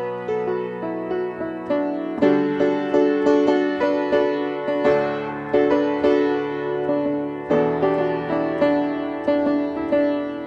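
Piano playing a song with full chords under the melody, a steady sequence of struck notes and sustained harmonies, clear and close with no talking.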